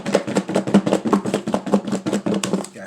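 Apple slices coated in mustard shaken inside a container, a quick series of about fifteen rhythmic thumps and rattles, close and fairly loud.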